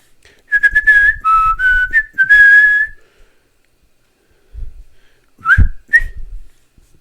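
Someone whistles a short, wavering melody up close, pauses, then adds a few more brief whistled notes.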